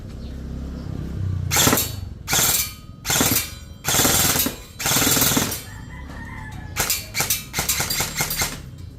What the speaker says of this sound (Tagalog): Try natin i-full auto.